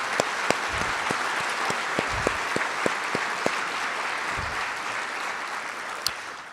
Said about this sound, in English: Let's give Chief a big round of applause.